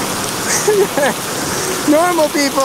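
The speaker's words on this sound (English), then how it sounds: "It's pouring rain now" Heavy pouring rain falls outdoors on a hike along the Haute Route through the Swiss Alps, a loud, steady hiss that runs throughout while people talk over it.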